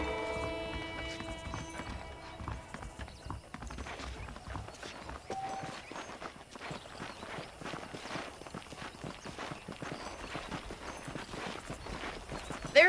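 Horse hooves clip-clop steadily in a Red Dead Redemption ride, a continuous walking rhythm under ambient game music and an occasional whinny.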